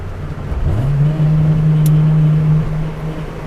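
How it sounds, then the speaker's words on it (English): A track-focused Acura RSX engine holds a steady, loud drone in third gear after a quick rise in pitch, running strong and close throughout. "Just kicked it up into third gear here. Now it's quite a bit louder."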